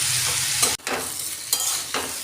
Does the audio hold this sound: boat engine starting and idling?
no